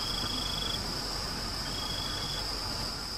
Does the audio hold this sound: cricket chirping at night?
yes